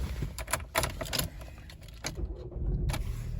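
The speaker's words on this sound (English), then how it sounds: "Close this and start the engine." Key turning in the ignition of a 2016 Vauxhall Astra 1.4 turbo, with a few close jangling clicks of the keys before the engine catches and settles into a low, steady idle, with no talking.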